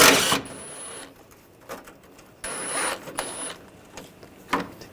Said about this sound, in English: Take this bracket off. Use a 13mm socket.